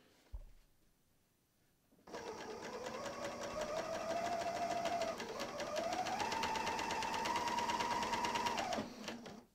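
A Bernina L 460 serger runs after two seconds of quiet, a fast steady motor whir and needle chatter as it sews and trims fabric, slowing slightly midway and then stopping near the end.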